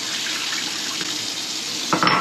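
Jalapeno peppers are rinsed under a running faucet with a steady stream of water hissing close by. A brief splash or clatter comes in near the end, and nobody talks.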